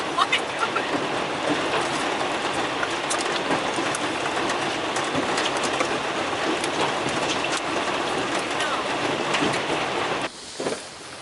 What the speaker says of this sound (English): Raining, look at the hail in the water.